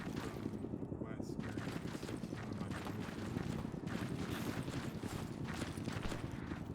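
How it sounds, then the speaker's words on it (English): Rocket artillery from an MLRS launcher fires repeatedly in a video game, a dense rattling barrage of rapid launches and blasts rolling on continuously at a steady loud level, with voices faintly underneath. "MLRS systems firing off from west"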